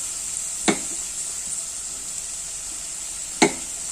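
Small onions and shallots fry in oil with turmeric powder for a bitter gourd stir-fry, giving a steady close sizzle throughout, broken by two sharp utensil scrapes against the pan.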